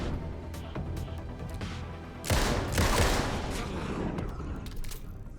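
Gunfire in the video game Alan Wake 2: a quick run of shots bursts out midway over steady game background noise, loud and close, then trails off into scattered lighter clicks.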